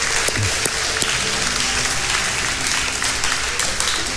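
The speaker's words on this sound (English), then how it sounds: "let's give our dads a big hand this morning" A church congregation applauds the fathers at a Father's Day service, steady and sustained clapping from many hands filling the room for several seconds.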